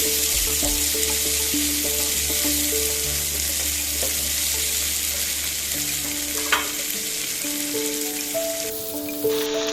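Chili powder sizzles in hot frying oil, a loud continuous hiss with crackling spatter throughout, joined by the occasional scrape of stirring and a few faint tones in the background.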